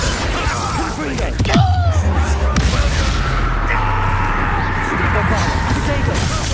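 A Confringo blasting spell explodes in the video game Hogwarts Legacy, a loud booming blast with crackling debris that rumbles on under busy game sound and a voice.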